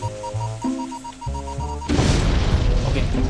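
A bomb goes off in the Guardian Tales video game, a sudden loud boom that breaks over tonal game music partway through and then rumbles on as a broad, noisy blast.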